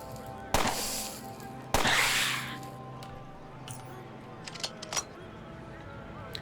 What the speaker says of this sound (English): I think instead we'll try shooting it to death now